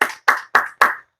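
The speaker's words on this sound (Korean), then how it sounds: "우리 하나님께 감사와 영광의 박수 올려드립니다." A church congregation claps four times in a slow, even rhythm, each clap sharp and loud with a short decay, no voices over it.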